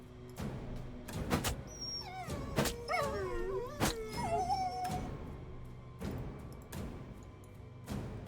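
Dogs in the video game Black Legend yip and whimper in short rising and falling cries amid sharp thuds and hits, loud and close with no talking.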